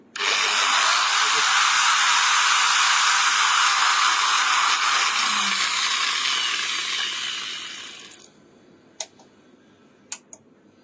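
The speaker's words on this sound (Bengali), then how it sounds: "গ্রাইন্ডিংটা আবার চালু করতেছি" A grinder runs steadily and loudly for about eight seconds, a dense broadband whir that winds down and stops, followed by a few sharp ticks and clicks in near quiet.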